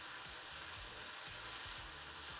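Liquid sizzles and bubbles steadily in a hot pan while the pan is deglazed and the liquid reduces for meatballs, a dense close hiss with soft stirring scrapes and no talk.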